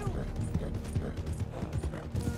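Galloping horse in the video game Red Dead Redemption 2, rapid rhythmic hoofbeats pounding close and continuous, with a voice talking over them.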